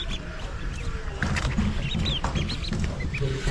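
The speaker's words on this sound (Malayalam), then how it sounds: "എല്ലാം പ്യോർ കുട്ടനാടൻ താറാവാണ് കേട്ടോ." Newly hatched pure Kuttanad ducklings from an incubator peep and cheep in a busy, overlapping chorus of short high calls, fairly close and continuous, thickening after the first second.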